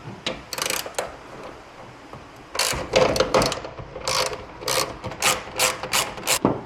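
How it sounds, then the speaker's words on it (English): Ratchet turning out two screws on the bed of a 2024/25 Toyota Tacoma during bed stiffener installation: two bursts of rapid, close clicking separated by brief pauses, with no talking. "we're going to go ahead and remove the 2 screws up here"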